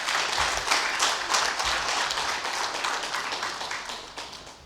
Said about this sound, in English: I expect a resounding applause